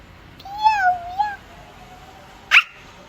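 A cat meows twice in quick succession, close and clear in a quiet room, followed by a single sharp click after a short pause.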